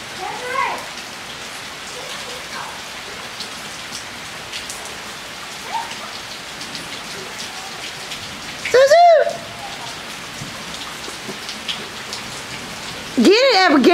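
Heavy rain pours outdoors in a dense, steady hiss of drops striking surfaces. Two brief, louder bursts cut through partway along.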